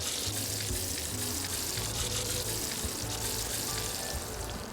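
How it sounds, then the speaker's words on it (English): Eggs sizzle steadily in a frying pan on a diner griddle in the Arctic Eggs video game, a continuous crackling hiss with a low background hum and no talk. "Now sizzle. Sizzle. Sizzle harder. Sizzle faster."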